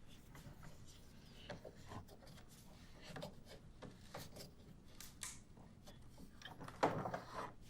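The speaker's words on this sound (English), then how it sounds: "I'm going to go ahead and tighten the handle to the point where it pulls the head of the carriage bolt securely into the lower" A wooden deep reach clamp held in a vise has its handle turned down on a carriage bolt, giving soft wood-on-wood rubbing and creaks with a sharper squeak near the end, fairly quiet and close.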